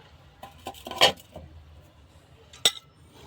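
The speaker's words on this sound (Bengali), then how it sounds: "তো আপনাদের আমি প্লেটে তুলে দেখাচ্ছি" Bengali-style prawn malai curry is served onto a plate with utensils: soft scraping and a few light clinks, with two sharp metallic chinks standing out against quiet kitchen background.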